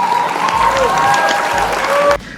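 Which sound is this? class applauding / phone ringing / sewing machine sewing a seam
class applauding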